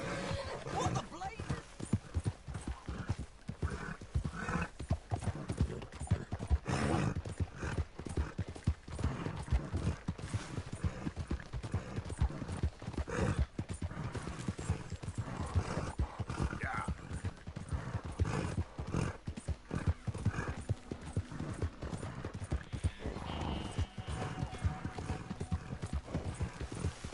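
A horse's hooves clip-clop steadily and continuously while riding in the Western video game Red Dead Redemption 2, close and rhythmic over a long stretch, with game ambience underneath.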